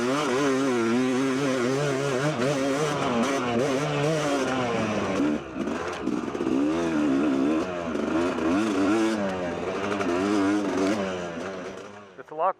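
A Yamaha YZ250 two-stroke dirt bike with a big bore kit buzzes loudly and close, its high engine note wavering smoothly up and down as it rides past and fades near the end, with talk over it.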